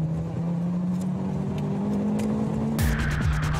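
A street racing car speeds off on a motorway, its engine revving hard with rising pitch, then a loud burst of acceleration and gear changes close by, alone without talk.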